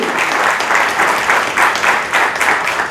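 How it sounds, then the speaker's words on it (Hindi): Loud applause from an audience at a catering association event, a dense crowd of hands clapping in thick waves that swell and pulse, close and sustained for the whole stretch. "तो जोरदार तालियां सेलो वालों को।"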